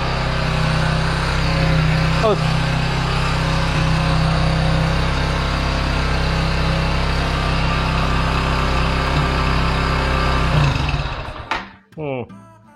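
A Kawasaki W175 motorcycle engine with a stuck throttle cable revving up by itself, holding a loud, steady high idle roar before cutting out near the end, with a person talking over it.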